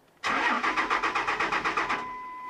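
Cummins diesel engine in a truck cranking on a cold start after lift pump work, about a dozen rapid rhythmic starter pulses, loud and close, stopping without the engine catching.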